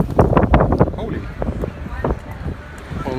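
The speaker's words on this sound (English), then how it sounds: "apologize for that sound, but today here on these Greek Isles it's extremely windy all weekend actually" Strong wind buffets a microphone in a windy Greek Isles harbor aboard a cruise ship, a loud rumbling roar with gusty bursts under a voice.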